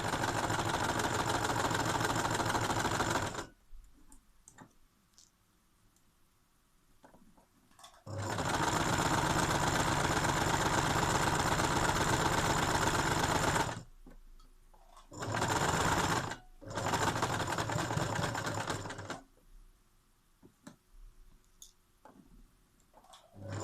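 Sewing machine doing a straight running stitch through fabric for a mold mask, loud close motor whir in two long bursts and a shorter one, separated by quiet pauses, with no talking.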